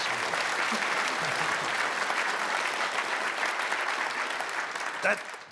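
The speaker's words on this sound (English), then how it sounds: "Big round for Sarah, please." A conference audience at an agriculture technology event claps steadily in a dense, even round of applause, fairly close and continuous for several seconds.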